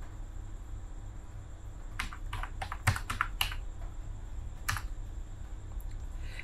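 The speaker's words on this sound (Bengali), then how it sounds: "এরপর ওটিপিটা এখানে টাইপ করব।" Someone types a one-time passcode on a computer keyboard: a short run of quick, close key clicks in two clusters over a steady low room hum.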